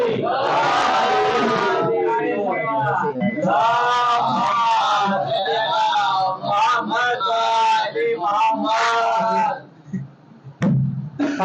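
A large mourning-gathering crowd in Kanpur roaring a loud collective response to the Naara-e-Haidari slogan, voices surging together in sustained chanting bursts, close and dense, ending in a brief lull and a final shout.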